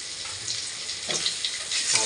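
Vegetable stems fry lightly in a pan with a steady, close crackling sizzle that swells and ebbs with stirring, no voices.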